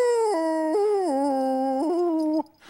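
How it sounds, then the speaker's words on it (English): A dog howls in one long, wavering, sustained cry with shifting pitch, close and loud, then breaks off into quiet rustling. "Just a little sympathy howl."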